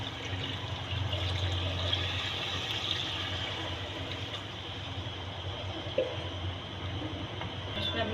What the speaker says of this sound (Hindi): अब इसमें हम पानी ऐड करते हैं